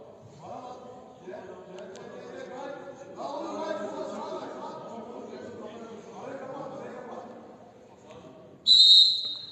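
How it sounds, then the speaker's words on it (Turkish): A referee's whistle ends the first half of a football match between KRAL 95 and La Riva, sounding as one sharp, loud blast near the end after a stretch of commentator talk. "ilk yarıdaki son düdükte geldi"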